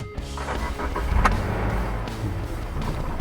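A Subaru XV STi engine cranks on a conventional ignition key and catches, then settles into a steady idle with a low rumble inside the cabin.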